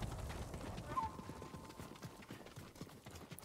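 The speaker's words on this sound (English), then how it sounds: "Horses, they're coming for us." Horses approaching at a clip in the samurai video game Ghost of Tsushima, a rapid, fairly close drumming of hooves with a brief whinny, continuing throughout.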